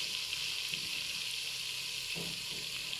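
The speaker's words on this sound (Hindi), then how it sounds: "इसको थोड़ा सा फ्राई करते हैं।" Ginger garlic paste fries in oil in a pot, a steady, close sizzle with crackling hiss throughout and a faint stir or clink partway through.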